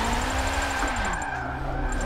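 A wide-body MK5 drift car in a racing video game, played on a steering wheel. The engine drones and revs with shifting pitch, and tyre noise comes through as the car slides, steady and loud with no talking.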